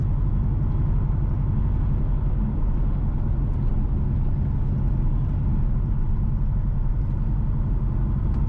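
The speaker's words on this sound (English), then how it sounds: "we are driving north from Niagara towards Johnson" Car driving north on a road from Niagara toward Johnson in St James, Jamaica, heard from inside as a steady, continuous low engine and road rumble with no talking.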